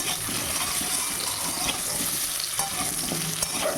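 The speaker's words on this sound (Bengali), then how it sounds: "আলুটা যখন ভাজবেন তখন একটু লবণ আর একটু হলুদ দিয়ে দেবেন" Potato pieces fry in hot oil with salt and turmeric, giving a constant close sizzle with scraping and stirring clicks over it.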